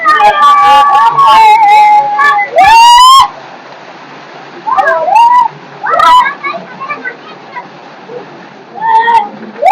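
People bathe under cold water gushing from a farm water pump, with bursts of splashing and rushing water alongside loud excited voices and children's shouts.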